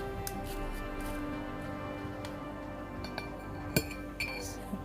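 Spoons of ingredients for a home remedy, including ginger and ground cinnamon, scrape and tap against a glass container, giving scattered light clinks and a few sharper knocks at close range over quiet background hum.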